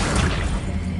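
A summoning spell, Accio, is cast in the Hogwarts Legacy game: a dense magical whoosh bursts out at once and fades over about a second, with no voice over it.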